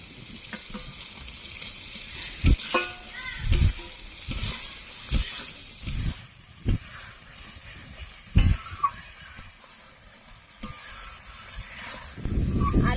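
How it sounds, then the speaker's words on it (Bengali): Fried potatoes tumble into spice masala sizzling in oil for a Bengali aloo paneer, with a steady frying hiss broken by repeated scraping and stirring knocks of a spoon against the pan. "মশলা কষতে কষতে দেখুন তেল ছেড়ে দিয়েছে এখন আমি দিয়ে দেবো ভেজে রাখা আলু"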